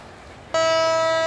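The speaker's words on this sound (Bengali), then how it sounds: "এই ট্রেনটা মনে এখন ছাড়বে, হুইসেল দিতেছে" A train at Kamalapur station gives a loud, sustained whistle as it prepares to depart, starting abruptly after a low background rumble.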